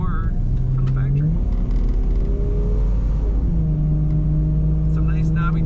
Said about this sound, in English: Today we're driving a 1998 Jeep Cherokee in black.